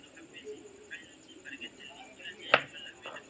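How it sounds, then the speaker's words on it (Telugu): A knife cuts food into pieces with soft taps and one sharp, close chop near the end, while people talk quietly throughout. "ఇప్పుడు కట్ చేయాలి ముక్కలు"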